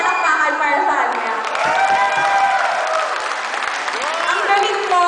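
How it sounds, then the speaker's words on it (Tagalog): Audience applauding and cheering for an 8-year-old girl singer at a local talent show in Cavinti, a steady dense wash of clapping with shouts and whoops throughout, and a voice talking over it. "So, isang mga palakpakan para sa kanya."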